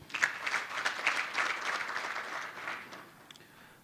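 A conference audience applauds steadily at moderate distance for about three seconds, then the clapping tapers off and fades out.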